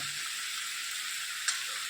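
Potatoes with fenugreek frying in a pan as spices are stirred in, giving a steady, close sizzle with a brief clink partway through and no talking.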